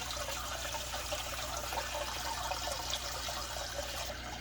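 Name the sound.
RODI water being made for saltwater aquarium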